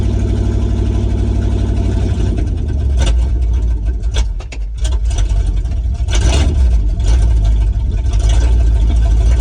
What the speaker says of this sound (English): I like the sound of this truck. It's a 302 4-speed.